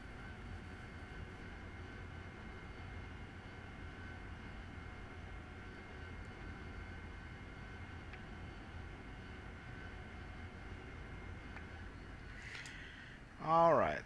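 AV-8B Harrier jet in DCS taxiing steadily onto the runway, a low continuous engine rumble and whine holding level throughout, with a brief louder burst near the end.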